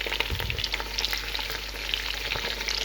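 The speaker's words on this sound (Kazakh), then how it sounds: "Осылай бір-екі минут қызартып қуырып аламыз" Chicken legs fry in a pot as the first step of a home-style pilaf, giving a loud, continuous, close sizzle with crackles and no voices.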